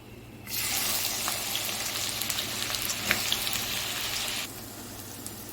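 Garlic and onions hit hot oil in a pan and sizzle steadily for about four seconds at close range, with a sharp sputter partway through, then the noise drops back to quiet.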